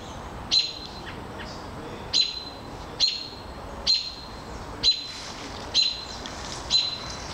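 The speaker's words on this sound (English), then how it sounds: "red-tail hawk fledgling. Below the tower, Palm Ave." A red-tailed hawk fledgling below a tower on Palm Ave, giving a series of about eight evenly spaced, thin, high-pitched calls at a moderate distance over a faint background hum.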